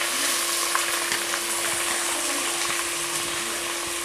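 Cardamom, curry leaves and dried red chillies fry in hot oil for Karaikudi Chettinad chicken uppu kari, a close, continuous crackling sizzle with no speech.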